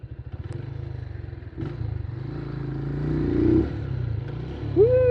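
A beginner-friendly motorcycle rides off-road over sharp rocks, its engine chugging and revving unevenly while the bike clatters and scrapes over rough ground, rising in pitch near the end; close and loud.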